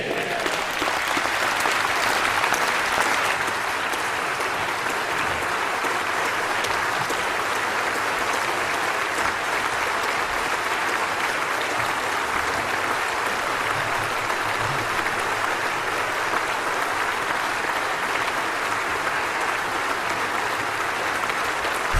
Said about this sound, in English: The coalition, they're already walking out and they're all cheering